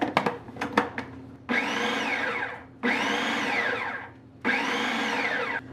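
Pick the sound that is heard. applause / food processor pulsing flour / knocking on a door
food processor pulsing flour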